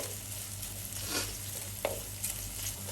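Masala for inji curry sautéing in a pan, a faint continuous sizzle with a few soft scrapes and taps of the spoon, close and quiet, no voices.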